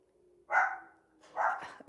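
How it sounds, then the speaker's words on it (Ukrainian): Dog barking in a yard, two short barks about a second apart, moderately close against a quiet background. "Собачка гавкає."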